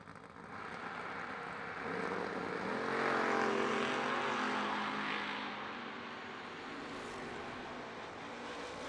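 A small-tire G-body Malibu launches at a drag race, its engine roar building loud and broad, peaking and holding as it pulls away, then easing to a steady distant drone with no talk.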